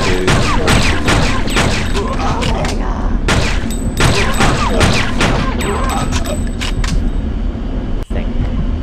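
Rapid, loud gunfire fills the Fear Effect video game scene, with dense overlapping shots and bursts that continue almost without pause before a brief drop near the end.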